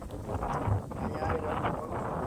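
Wind buffets the microphone on a farm in a steady, close, low rumble that keeps going throughout, with faint background murmur underneath.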